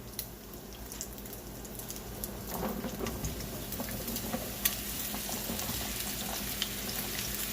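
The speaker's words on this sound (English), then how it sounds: "now that I've got the bacon starting to crisp up around the edges and stuff, I'm going to go ahead and throw the mushrooms in there" Mushrooms fry with crisping bacon in a pan, giving a steady close sizzle and crackle with occasional stirring clatter, growing slightly louder as they cook.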